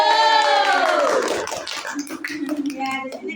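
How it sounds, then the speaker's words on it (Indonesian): Audience clapping at a class presentation, a brief patter of hands following a sustained tonal swell, with talk continuing over the scattered claps. "Tepuk tanganlah."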